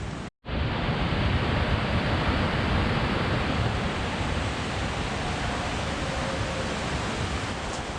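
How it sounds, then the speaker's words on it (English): Strong wind blows against an outdoor microphone on a dull day, a loud, steady broadband roar that briefly cuts out near the start and then rushes on unbroken. "the wind's picking up"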